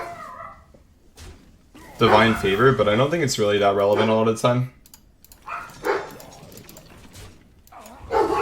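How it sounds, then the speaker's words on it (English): Dogs bark in short bursts in the background while someone talks steadily over a Hearthstone game, the barking faint and intermittent beneath his voice. "Sorry about the dogs."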